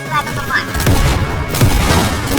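Continuous booming gunfire and explosions from the Roblox game Dead Rails fill the clip, dense and loud, with excited shouting in Ukrainian mixed in.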